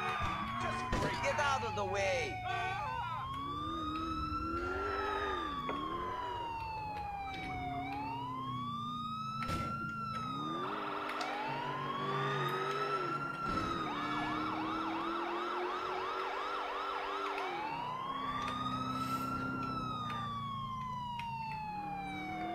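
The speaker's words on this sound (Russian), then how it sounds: "Подъезжаем как следует под фанфары и сирены." Police car siren in Grand Theft Auto IV wails continuously and loudly, its rising and falling sweeps repeating up close over engine noise for the whole stretch.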